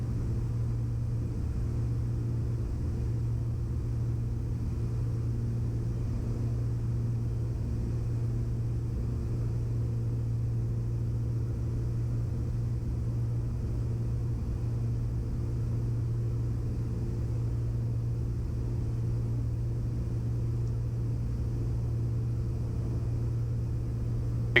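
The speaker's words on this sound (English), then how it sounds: "Alright, going full flaps. We are 3 Galeen. We are clear to land." Private plane on final approach with full flaps, a steady droning engine and airframe rumble with a strong constant hum, loud and unbroken throughout with no voices.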